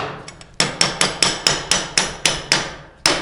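A chipping hammer strikes metal repeatedly to knock off dross, in a steady rhythm, about nine sharp ringing smacks close up, each decaying quickly before the next.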